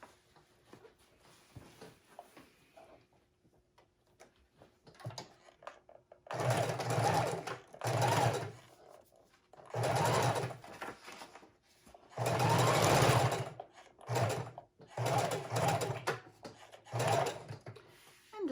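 A sewing machine stitches lace around junk journal pockets in a run of close bursts of fast whirring stitches, starting after a quiet stretch of faint handling.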